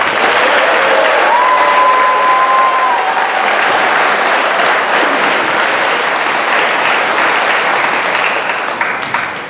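A large audience applauds at a high school graduation ceremony, loud sustained clapping and cheering filling the hall, with a few whoops and whistles early on before it gradually thins.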